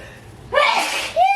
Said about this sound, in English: pepper makes me sneeze